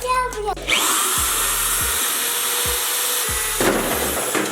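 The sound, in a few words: drill drilling out rivets on Toyota Tacoma fuel door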